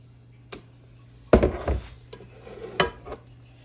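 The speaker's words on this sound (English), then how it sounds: "I'm gonna put this batter here in this cake pan here" Cake batter being put into a cake pan in a home kitchen: a few sharp, close clinks and clatters of a utensil against the pan, with one louder scraping clatter in the middle, set against quiet room hum.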